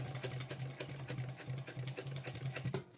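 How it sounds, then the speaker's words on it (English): A hand-cranked sewing machine sews the last few stitches of a bum bag, giving a quiet, uneven run of close mechanical clicks and soft thumps with a low hum in irregular bursts. "I'm just going to hand crank here the last few stitches"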